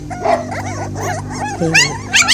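Hungry puppies, Zoe's litter, yip, whimper and bark close up in a high-pitched, overlapping chorus that comes in restless bursts and never settles.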